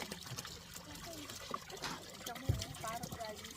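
Cold water gushes from a countryside spring, a faint, continuous trickling flow beneath people talking nearby.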